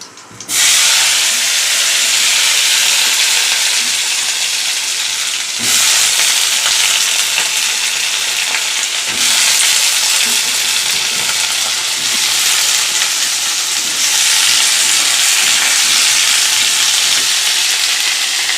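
Potato and eggplant hit hot oil in a kadai after fried lentil dumplings and five-spice tempering, giving a loud, continuous close-up sizzle that briefly dips twice before roaring on.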